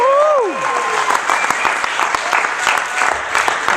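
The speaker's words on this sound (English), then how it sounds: "please give a big round of applause for the curious case of Christian Hagen." Applause from a comedy club audience fills a short burst of clapping after a whistle-like cry at the start, with scattered cheers over the claps.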